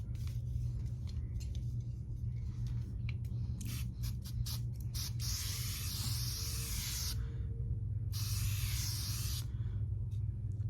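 Moisturizing face spray misted from a pump bottle during makeup application, two long bright hissing bursts preceded by several short quick pumps, close and loud over a low steady hum.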